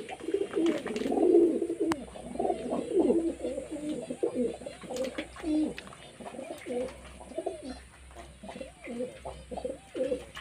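Pigeons coo steadily in a throaty, rolling series of calls, close and fairly loud, overlapping one another in a rainy-season loft setting with no talking.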